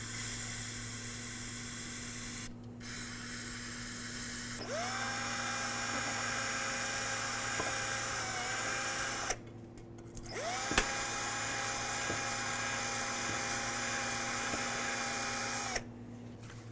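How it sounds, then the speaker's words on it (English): A bore brush with parts cleaner scrubs the slider pin holes of a rear brake bracket on a 2011-2016 Hyundai Elantra, a steady whirring whine that rises in pitch in long runs, broken by short pauses. "generally I use some parts cleaner with a bore brush"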